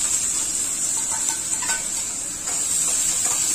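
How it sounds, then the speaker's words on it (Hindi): Finely chopped onion sizzles in hot oil with bay leaf and cumin, a steady close frying hiss under light stirring and utensil clinks, with no talking. "और डाल देंगे हमारा कटा हुआ बारीक प्याज।"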